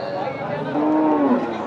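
Cattle low at a bull and cow market in Nilphamari, one drawn-out moo rising above a busy, crowded background hum with faint voices.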